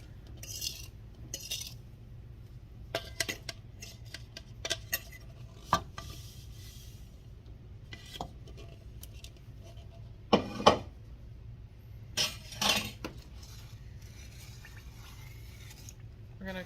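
Sugar is added and stirred into a pot of raspberry lemonade jelly, with scattered spoon clinks and scrapes against the pot over a faint low hum, quiet and intermittent.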